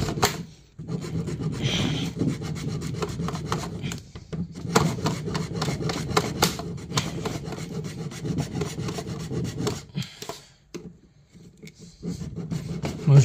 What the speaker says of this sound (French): on fait un petit encoche avec la scie